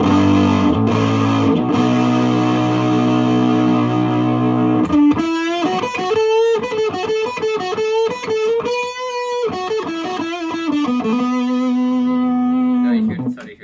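Electric guitar on the bridge pickup runs through a BBE Windowpane fuzz pedal at full settings, first sustained low chords, then a loud, buzzing fuzz lead line with bending held notes, continuous and upfront with no talking.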